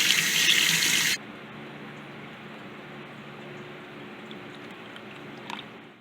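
Tap water gushes loudly into a dish for a pet's fresh water, a strong broadband rush for about a second before it cuts off, leaving quiet room tone with a faint clink near the end.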